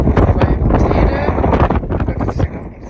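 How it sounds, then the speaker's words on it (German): Strong gusty wind buffets the microphone on the slopes of Teide volcano, a loud continuous roar with surging gusts throughout. "Es ist ein bisschen windig hier."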